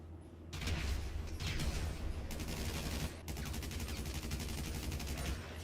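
Special carbine assault rifle fire in GTA 5 Online, a loud, continuous stream of rapid automatic shots with a brief break near the middle, with no talking over it.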